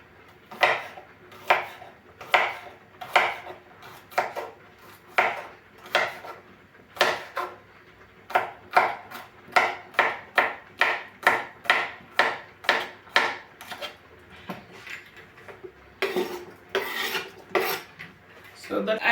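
Fresh ginger and turmeric roots, washed with skin left on, being sliced with a knife on a board: a steady series of crisp, close chopping knocks, some quick and clustered, with no talking.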